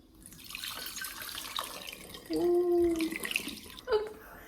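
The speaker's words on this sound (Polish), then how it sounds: "ostatni etap produkcji to czysta wyparzona butla, lejek i mleko gotowe przelewamy" Homemade almond milk poured from a container through a funnel into a clean scalded bottle, a short gurgling liquid stream running about a second amid faint kitchen background.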